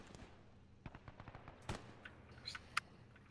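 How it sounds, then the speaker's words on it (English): Distant gunfire in the military video game Arma 3: scattered faint rifle cracks and short bursts pop irregularly, with a couple of sharper reports standing out. "Is that one you're firing over my head or is that incoming rounds?"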